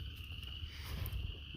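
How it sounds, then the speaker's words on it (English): Frogs call from flooded bottomland in a continuous, high-pitched trilling chorus, faint and distant, over a soft low background rumble. "Thought y'all might want to hear the frogs."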